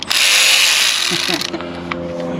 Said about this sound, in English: But this is what he's got to screw the screw in. Power tool.